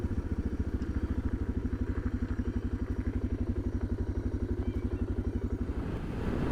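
A motorbike engine idles or runs steadily at low revs on an Australian back road near Mount Lindsey Road, giving a close, even, rapid thumping pulse with no speech.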